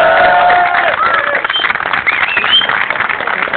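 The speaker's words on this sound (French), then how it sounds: "je vous prie de l'applaudir" Crowd at a wrestling event applauding and cheering to welcome a new announcer, a dense sustained wash of clapping and voices with whistles rising over it, loud and close throughout.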